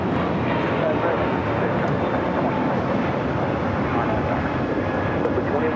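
Jet airliner taking off from runway 25 right at LAX, heard as a steady, loud broadband roar that holds through the whole stretch with no break.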